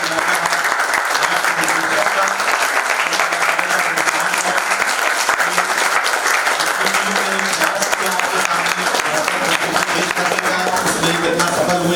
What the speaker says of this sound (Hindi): मैं चाहूंगा एक बार जोरदार ताली बजाकर